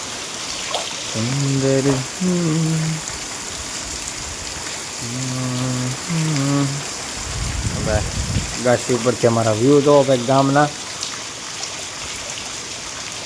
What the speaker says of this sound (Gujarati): ये देखो भाई, बढ़िया बढ़िया बारिश हो रहा है